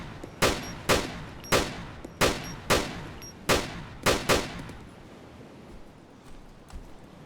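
Single gunshots in the video game ARMA 2 DayZ, fired in a field: eight loud, sharp reports at uneven intervals, each with a short echoing tail, then fading into quiet ambience.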